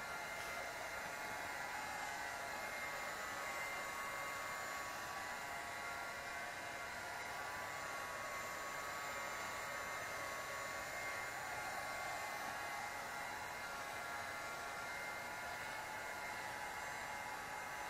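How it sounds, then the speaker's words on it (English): A heat gun blows steadily while warming a tire, a continuous airy roar with a faint whine on top, close and unchanging for the whole stretch, with no voices. "Gonna take my heat gun right here and heat up the tire a little bit, get it a little bit warmer."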